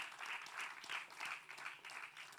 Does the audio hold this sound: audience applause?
yes